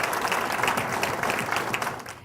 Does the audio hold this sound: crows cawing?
no